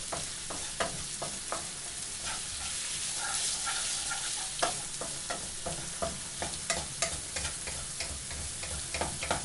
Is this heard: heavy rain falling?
no